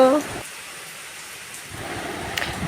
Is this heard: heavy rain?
yes